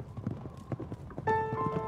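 Hoofbeats of a horse racing across open plains thud in a quick, uneven rhythm, then a sustained bright tone swells in over the last half-second and carries the sound out.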